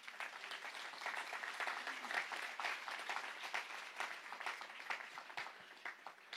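An audience claps together in sustained, fairly faint applause, a steady patter of many hands with no break.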